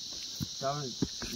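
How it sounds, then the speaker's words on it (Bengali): Crickets chirp faintly from a quiet valley in Sikkim, as a steady high insect trill runs through the whole stretch, with a brief voice-like sound and soft background movement. "এখানে ঝিঝি পোকার ডাকটা প্রচুর শোনা যায়"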